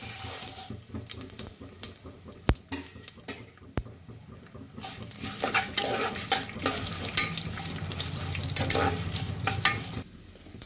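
Mustard seeds, dried red chillies and fenugreek sizzle in hot oil, a steady crackling fry with stirring and sharp clinks of a utensil against the pan, close and continuous.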